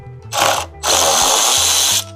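A power tool whirs in two bursts, a short one then a longer steady run, as it backs a 10 mm bolt out of the center of the grille on a Toyota 4Runner, close and loud with no talk.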